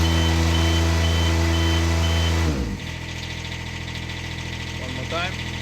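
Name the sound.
engine running at high revs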